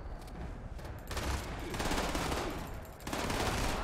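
Dense, sustained gunfire in the video game Fallout 76, with overlapping rapid shots that swell louder after the first second and stay heavy, like a fusillade or machine-gun bursts, with no clear voices.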